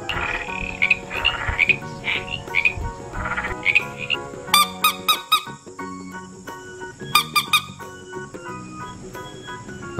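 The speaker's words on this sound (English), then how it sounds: "Frog." Frogs croak in a busy series of rasping calls and rapid clicking trills, some repeated in quick bursts, fairly close and clear with no talking.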